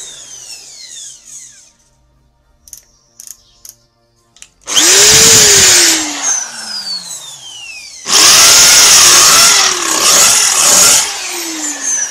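A Tilswall 850W percussion drill runs in two loud bursts, spinning up with a rising whine and then winding down. Quieter clicks and handling noises come between the bursts.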